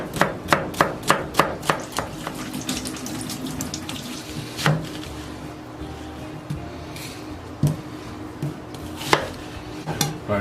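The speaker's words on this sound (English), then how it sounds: "I'm chopping onions and everything" Knife chopping onions on a cutting board in a home kitchen, a quick run of sharp, evenly spaced chops up front, then scattered slower cuts over running tap water and dish clatter.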